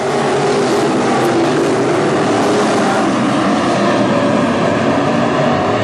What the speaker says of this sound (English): They're drag racing down to the finish, touching just a little bit.